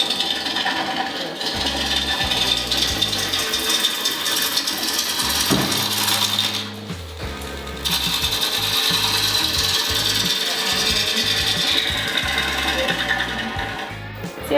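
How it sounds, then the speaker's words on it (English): A bowl gouge flattens the face of a wood bowl blank spinning on a lathe, giving a steady, loud scraping and rasping cut that runs through most of the clip with brief pauses. "we needed to flatten the face of the bowl blank, and I got a chance to finally try using a traditional turning tool, a bowl gouge"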